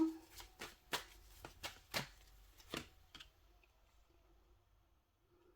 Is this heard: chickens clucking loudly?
no